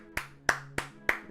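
Four evenly spaced hand claps from the video game Schrödinger's Call, crisp and close, each a sharp single slap with a short decay.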